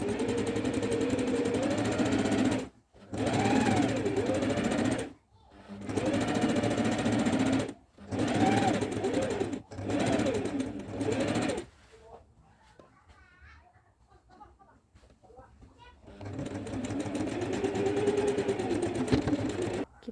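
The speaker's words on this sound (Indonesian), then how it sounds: "baru akan saya jahit samping sisi yang panjang" An electric sewing machine stitches the long side seam of jumputan or shibori-dyed fabric in loud, close runs of several seconds, separated by brief pauses and a quieter stretch with faint background birds.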